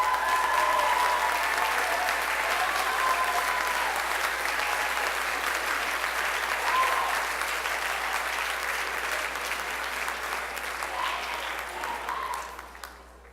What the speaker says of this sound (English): Let's give one more big round of applause to this year's officers and next year's officers.